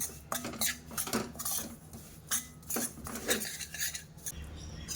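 A metal spoon clinks and scrapes against a steel bowl while stirring a dry mixture of ground roti and poha crumbs for sweet churma ladoo, in quick irregular taps, close and quiet with no talk.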